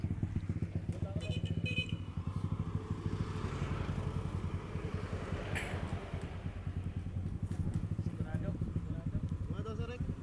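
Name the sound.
Yamaha Mio and Suzuki Raider motorcycles racing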